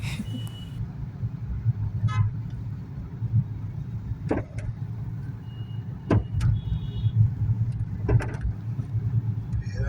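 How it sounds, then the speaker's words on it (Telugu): Lorries and other traffic on a road en route to a temple: a steady low engine drone from passing vehicles with several short horn toots and beeps rising above it. "రోడ్ల మీద ఏంది లారీలు విన్నారా"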